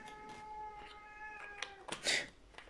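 A cat meows repeatedly indoors, a series of drawn-out, tonal mews of moderate loudness ending in a louder, harsher cry.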